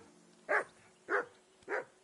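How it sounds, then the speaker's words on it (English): Dog barking in Kingdom Come Deliverance 2, three evenly spaced barks of moderate loudness over a faint steady background hum. "Get that mutt of yours to stop barking, will you?"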